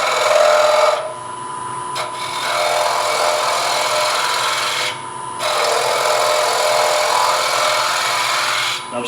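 Hand tool hollowing out the bowl of a wooden scoop, a steady close rasping scrape running in long continuous strokes with two brief pauses between passes.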